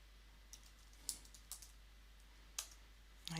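Sparse, quiet keystrokes on a computer keyboard: a handful of separate clicks spread across a few seconds against a faint background hum.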